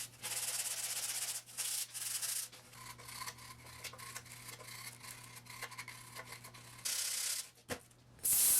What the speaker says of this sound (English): So again, I sanded it,